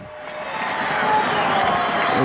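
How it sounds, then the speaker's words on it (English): A football crowd at a youth cup final in 1997 cheers after Drogheda's equaliser. The roar is broad and distant and swells steadily louder, with faint voices mixed in. "And the crowd has gone mad."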